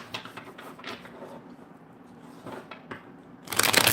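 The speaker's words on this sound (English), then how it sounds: "The card shuffle is really loud." A deck of tarot cards being shuffled loudly close by, with soft riffling and rustling throughout and a sharp, bright burst of shuffling near the end.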